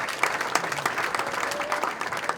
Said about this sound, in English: So a round of applause for everybody in the room.